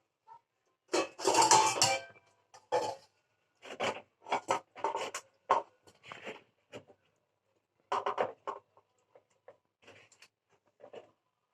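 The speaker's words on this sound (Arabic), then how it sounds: "هنحط في الخلاط شوية فراولة" Strawberries dropping into a blender jar for a strawberry milk drink, a series of irregular soft thuds and clatters with brief pauses between them, close by, no talking.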